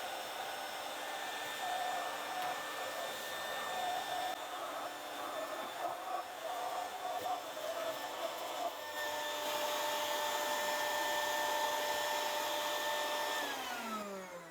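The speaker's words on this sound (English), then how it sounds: "Would you grab the vacuum?" A vacuum cleaner runs steadily with a high, droning whine, loud and close, fishing a dropped bolt from the valve train of a 1956 Ford Customline engine, its pitch shifting slightly before it winds down at the end.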